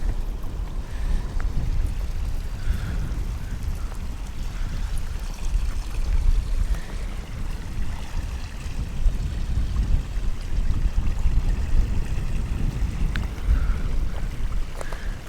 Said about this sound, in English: Wash it off in the waterfall.